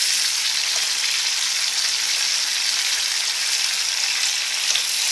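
Stuffed green chillies fry in a pan with an even, loud, hissing sizzle that stays steady and close throughout, with no voices.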